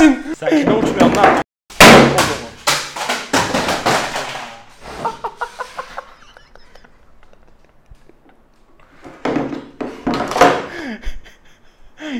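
A cheap drone that will not fly is struck repeatedly, with a string of loud thuds and slams in bursts amid excited shouting and chatter from several men.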